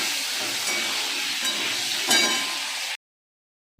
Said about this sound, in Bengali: এবার আমি আলু দেব, সেই আলুগুলো একটু ভেজে নেব